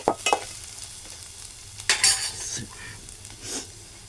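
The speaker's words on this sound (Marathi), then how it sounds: "आणि ढवळून घेतो." A spoon stirs bharangi, a wild monsoon vegetable, in a sizzling pan, with a few sharp scraping strokes against the metal over a low, continuous fry, close and fairly quiet.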